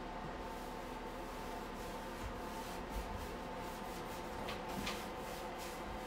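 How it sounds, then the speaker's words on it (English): Wax is rubbed by hand over black-painted wardrobe furniture with a cloth, giving a steady, close swishing friction with small bursts of brisker strokes and no talking. "So right now I'm waxing over a color called Black Velvet, and Hey Sailor is at the bottom"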